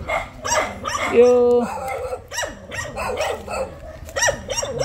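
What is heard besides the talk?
dogs barking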